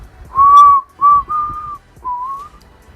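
A person whistles a few sustained, wavering notes in short phrases separated by brief pauses, clear and close.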